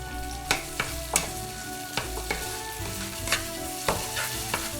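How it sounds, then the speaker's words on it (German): Fresh spices fry and sizzle in a hot pan with tomato paste, with repeated scraping and clinking from stirring at a steady, unhurried pace, close and fairly loud. "Frische Gewürzstücke dazugeben."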